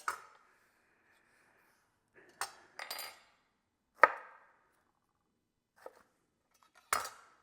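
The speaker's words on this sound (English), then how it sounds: "And then I'm just gonna rough chop it." A knife rough-chops a peeled vegetable on a cutting board in a home kitchen, giving a handful of separate sharp knocks spaced irregularly apart with quiet gaps between them and no talking.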